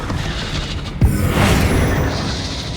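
In Hogwarts Legacy, a Bombarda blasting spell goes off with a sudden sharp thump about a second in, followed by a rushing, rumbling blast that swells and then fades into a lingering roar.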